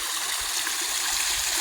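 Water from a small waterfall spills into a little pond on a December day, a continuous hissing rush that holds constant throughout, near and with no voices.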